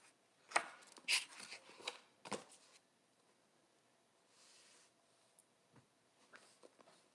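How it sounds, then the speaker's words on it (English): Rubbing on a sandpaper-textured sketchbook page: a few short, rough scratchy strokes in quick bursts, close and fairly quiet, then a longer soft rub and stretches of near silence. "Sandpaper is fun. I like to hear the texture."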